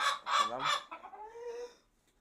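Fayoumi hens clucking up close, a few quick cluck bursts followed by a higher, drawn-out call, with no talk over them.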